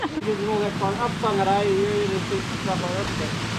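Mountain stream water rushing steadily into a small turbine intake dam, a continuous loud wash with a voice talking over it.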